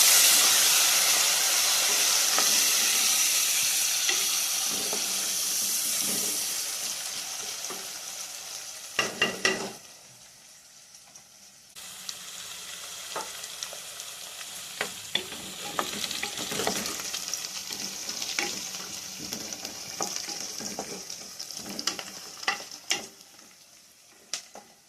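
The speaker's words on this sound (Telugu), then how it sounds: "ఉల్లిపాయలు వేగుతున్నాయి. మనం ఎండు ముక్కలు వేసుకుందామండి." Onions and dried meat (endu mukkalu) frying and being stirred in a pan with curry leaves for an Andhra-style dry meat and snake gourd curry: a steady loud sizzle with spoon scrapes, which dips briefly, then returns alongside repeated sharp stirring clicks.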